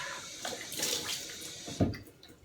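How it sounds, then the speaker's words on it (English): Cold tap water splashes as a face is rinsed by hand after shaving, a short close burst of sloshing with one sharper splash near the end. "I'll wash my face off with some cold water."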